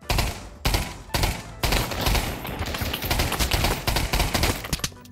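Gunfire in a VR video game: dense, rapid automatic bursts rattle almost without pause, loud and close, broken by a few brief gaps near the start.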